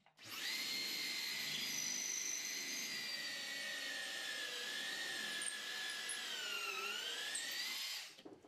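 A power drill with a universal bit bores through wood and stone on a bathroom wall, giving one steady, high whining drone about eight seconds long with slight shifts in pitch, close and with no talking.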